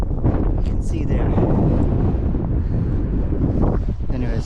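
Wind buffets the microphone in an open field, a loud continuous low rumble with gusty swells, and a voice talks faintly through it.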